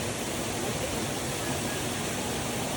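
A waterfall in a natural hillside setting roars as a steady, broad rushing wash, close and continuous without a break.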